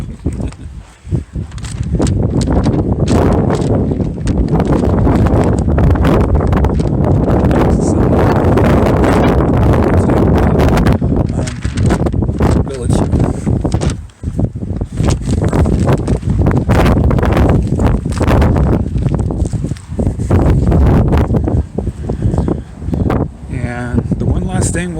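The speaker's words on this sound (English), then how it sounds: "And back out in the wind." Strong wind roars almost without pause at an outdoor historical homestead museum in Fort Rock, Oregon, buffeting the microphone loudly with brief lulls and a few faint rustles.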